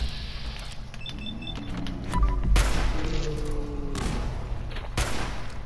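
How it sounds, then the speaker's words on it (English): Grenade explosions in Fallout 4, several sharp loud blasts with broad booming bursts spaced a second or two apart, over background game sounds and low rumble. "There's the grenades again."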